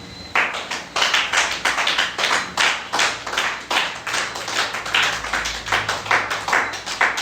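A church congregation claps steadily in rhythmic unison, the sharp hand claps close and loud, repeating throughout without talk.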